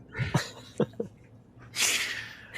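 A single sharp sneeze bursts out close to the microphone, preceded by a few short breathy sounds and followed by a hissy exhale.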